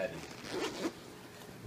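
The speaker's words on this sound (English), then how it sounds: "unzip this case." Zipper on a Godin Multiac Grand Concert Duet guitar case being pulled open, a short rasping zip in two quick pulls, close and fairly quiet in a calm room.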